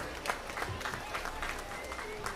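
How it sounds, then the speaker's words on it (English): A crowd claps for a pair of barrows at a youth swine market show, a steady wash of applause that holds at an even level through the short stretch. "Let's give them both a round of applause"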